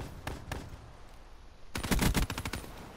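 A Dingo light machine gun in a video game fires two short bursts, then a longer rapid stream of loud, close automatic shots.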